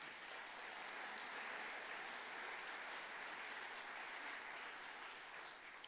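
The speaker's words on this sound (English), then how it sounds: "I received that applause as a compliment to our operation" An audience claps steadily for several seconds, a dense even wash of applause heard from a distance at low volume, with no speech over it.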